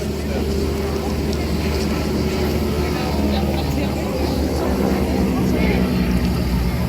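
A display aeroplane at the Bray Air Show in Wicklow, Ireland, flown by the Royal Jordanian Falcons, gives a steady, loud engine drone throughout while an announcer talks over it.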